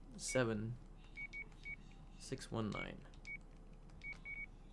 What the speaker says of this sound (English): I'm gonna call the phone number, I guess.